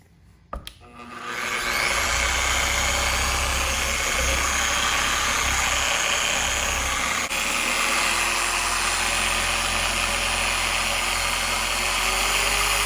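Polishing buffer running on Honda CR-V paint with Meguiar's medium cut cleaner, spinning up after a click into a loud, steady whirring drone with a low rumble and a scrubbing texture, close and continuous, no talking.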